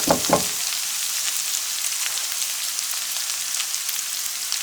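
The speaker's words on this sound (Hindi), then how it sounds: "हमारा अदरक और लहसुन का पेस्ट फ्राई हो गया है।" Garlic and ginger paste frying in a pan for Indian aloo gobi, a steady close sizzle throughout with a couple of brief stirring knocks at the start.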